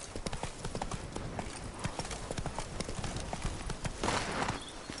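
Roach the horse trots with rapid, steady clip-clopping hooves in a PS4 video game, the rhythm close and continuous under a low bed of game ambience.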